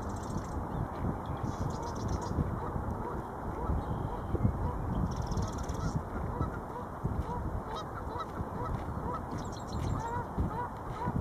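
Geese honk repeatedly in short bursts at a nature reserve in Nisqually, Washington, their calls moderately distant over a constant, rumbling, windy outdoor background.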